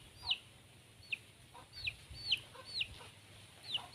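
Several short, high-pitched clucks from chickens, spaced irregularly over a faint low background hum, fairly quiet and a little distant.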